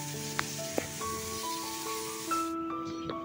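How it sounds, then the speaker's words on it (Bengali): Potato and pumpkin pieces fry in hot oil with panch phoron and green chilli, a steady close sizzle with a few sharp pops and a bright tonal whine over it. "একটুখানি আলু কুমড়ো ভাজা চাপালাম"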